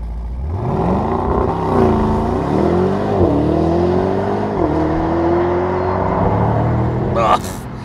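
A 2023 Mercedes-AMG SL 63 V8 revs loudly and continuously, its pitch climbing through several gears with brief dips at each shift, ending in a sharp burst of noise.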